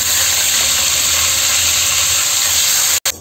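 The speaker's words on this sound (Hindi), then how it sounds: "इसी तरह हम सारे मछली को फ्राई कर लेंगे" Fish frying in oil produces a loud, dense, continuous hiss and sizzle, steady throughout, cut by a sudden brief dropout near the end.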